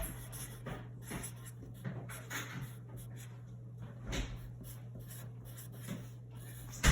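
A pen scratches and rubs across a greeting card for Rosh Hashanah in short strokes, quiet and close over a steady low hum, ending with a small knock.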